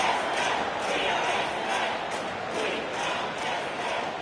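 A stadium crowd cheering after a goal in AFL Evolution 2, a dense, steady roar held at an even level throughout with no breaks.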